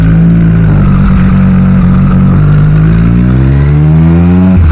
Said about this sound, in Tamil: that's the exhaust note.